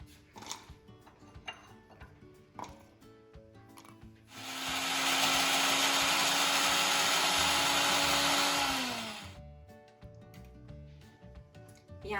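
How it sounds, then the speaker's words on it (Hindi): A kitchen mixer grinder blends green chili and garlic into paste, a loud steady whir lasting about five seconds, framed by close handling clatter and knocks before and after. "अब हम बनाएंगे हरी मिर्ची और लहसुन का पेस्ट।"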